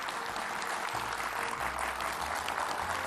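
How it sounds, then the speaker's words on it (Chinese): Studio audience applause on a television talk show set, steady dense clapping filling the whole stretch with low hum beneath. "来，掌声鼓励。"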